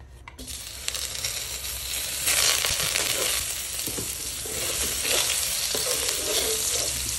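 Garlic and onion frying together in butter on a strong stove flame for goat kaldereta, a loud steady sizzle with stirring scrapes and occasional clinks, no talking.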